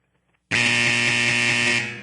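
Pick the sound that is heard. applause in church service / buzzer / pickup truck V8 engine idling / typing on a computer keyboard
buzzer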